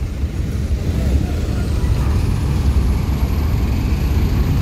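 A red Handoyo intercity bus drives aboard a ship's vehicle deck, its engine a steady low rumble with continuous heavy-vehicle noise and no distinct breaks.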